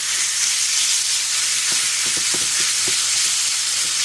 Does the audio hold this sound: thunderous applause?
no